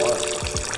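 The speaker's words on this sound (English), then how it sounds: "This looks like water mixed oil, bro." Water-mixed oil gushes steadily out of a BMW F30 335 engine during an oil drain, a continuous close splashing pour with no break.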